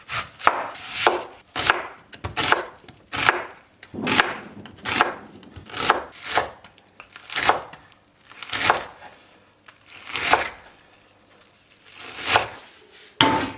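An onion being chopped for egg fried rice, a knife striking the board in a steady series of distinct, close, loud chops, roughly one every half second to second.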